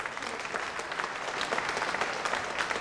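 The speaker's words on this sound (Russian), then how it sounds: "Ваши бурные овации еще." An ovation from the audience at a combat sports fight event, a sustained roar of dense clapping that stays steady and full from start to finish.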